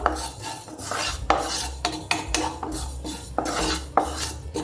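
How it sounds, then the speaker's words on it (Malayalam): A tablespoon of white sesame seeds dry-roasts in a pan on a gas stove, giving irregular sharp clicks and light scraping, like a spoon against the pan, with no one talking. "ആ എള്ള് പൊട്ടുന്ന ഒരു ചെറിയ സൗണ്ട് വരും"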